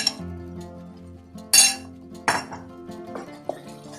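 A metal spoon clinks against a pot while stirring yogurt chicken, with a few sharp scraping chinks and knocks spread over several seconds, fairly close and with no talking.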